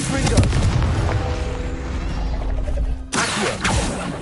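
A Confringo blasting spell explodes in Hogwarts Legacy with a loud, booming burst, its rumble lingering for a few seconds before a second sharp blast hits near the end.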